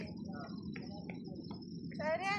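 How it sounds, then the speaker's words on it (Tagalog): Crickets chirp steadily outdoors, a faint continuous trill under light background noise, with a brief brighter call near the end. "Naririnig yung kuliglig, no?"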